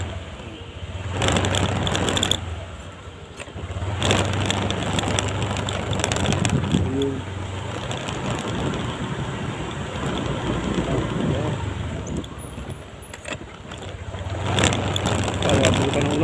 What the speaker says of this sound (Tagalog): Puntan tayo ng ulan. Ito na yung bagyo.